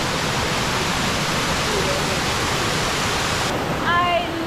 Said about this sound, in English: this is just another waterfall